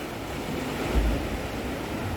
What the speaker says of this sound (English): the woof, will be coming from the water crashing down under there